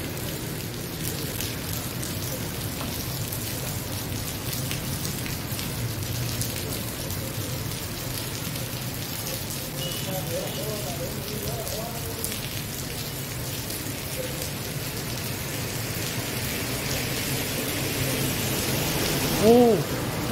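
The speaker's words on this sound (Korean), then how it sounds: "비 안 온다고 좋다 했더니 비와요" Steady rain in Da Nang, Vietnam patters and hisses on surfaces in a constant wash, with a few faint voices under it.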